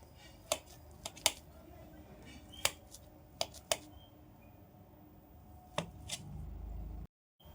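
A steamed aviri kudumu rice cake being cut into pieces with a knife: a handful of sharp, irregular taps and clicks, spaced unevenly, close by over a quiet background.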